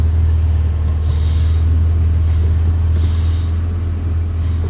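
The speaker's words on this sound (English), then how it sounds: "I don't know what that clunking noise was." A new Bendix brake booster gives two brief clunks over the loud, steady rumble of the idling vehicle.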